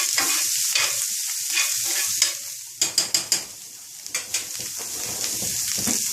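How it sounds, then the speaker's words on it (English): Tempeh browns in a hot pan for a vegan pastelón de plátano maduro, a constant close sizzle broken by a few sharp clicks of a utensil stirring and scraping, with no speech. "if you notice, the tempeh has kind of started to brown up"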